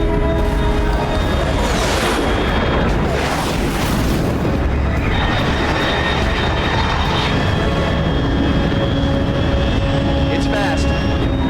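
Aircraft flying overhead in the Metal Gear Solid Delta: Snake Eater game, a loud deep roaring rumble with booming swells that rise and fade, heavy and continuous, with a voice speaking over radio above it.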